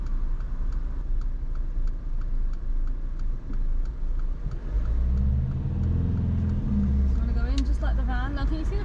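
A car moves off on a slight gradient during a driving lesson. A steady engine hum rises as it accelerates, and a turn indicator ticks throughout while an instructor and a learner talk over it.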